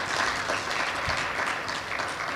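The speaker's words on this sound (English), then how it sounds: "can we please give our panel a round of applause?" Audience applause for a private-sector panel on scaling, equity and co-investment: dense, steady clapping from a full room, loud and continuous throughout with no voices over it.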